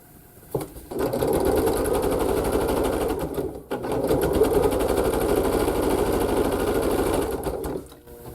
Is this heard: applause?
no